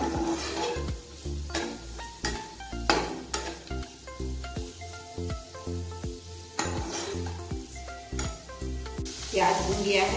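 Onions fry with salt in a pan for gatte ki sabji, a steady close sizzle with frequent clinks and scrapes of a spoon stirring against the metal throughout.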